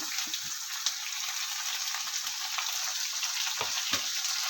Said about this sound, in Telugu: ఇప్పుడు దీనిలో మన వామాకు వేసుకొని ఫ్రై చేసుకుందాం మంచిగా పచ్చివాసన పోయేదాకా